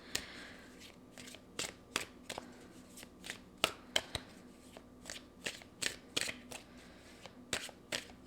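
Playing cards being handled and drawn from a deck, heard as close, sharp flicks and snaps in an irregular series against a quiet room, with no voices.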